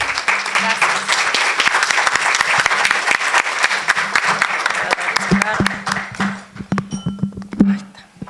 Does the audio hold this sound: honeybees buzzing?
no